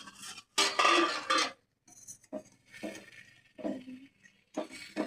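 A metal lid is lifted off a pan of simmering capsicum gravy over a low gas flame, giving a loud burst of scraping clatter followed by a few lighter clinks and knocks, with no talking.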